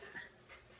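A dog pants and gives a thin whimper in a short, faint burst, with a second softer breathy pulse shortly after, set against quiet room noise in a home.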